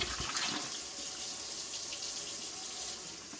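Tap water runs steadily into a container being filled for turkey brine, a continuous close splashing rush with no pauses.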